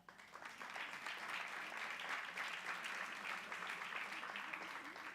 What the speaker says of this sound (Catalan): Molt bé, aplaudir.